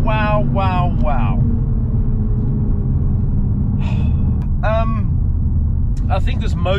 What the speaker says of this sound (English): this 3-liter inline six turbocharged motor, with its 275 kilowatts, 500 newton meters of torque, it just delivers